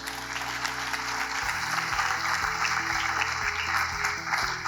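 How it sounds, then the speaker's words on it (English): Audience applause at Prarambh 2025, a university induction event, steady continuous clapping from a large crowd, moderately loud, with a low hum and faint background voices underneath. "and big round of applause for everyone."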